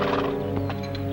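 A horse whinnies in a period drama setting, a tonal neigh layered with a few hoof thuds, close and fairly loud over a steady low background.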